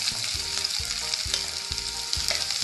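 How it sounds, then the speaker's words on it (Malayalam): Sliced onions sizzling in hot sunflower oil in a pan, a dense, even crackling hiss with a low rhythmic stirring thump repeating about every half second, close up and without any voices. "എണ്ണ ചൂടായിട്ടുണ്ട്, അതിലോട്ട് നമുക്ക് സവാള ചേർത്ത്"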